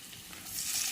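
Ginger sizzles as it is sautéed in a pan, a brief, steady hiss of frying that grows slightly louder, with no talking.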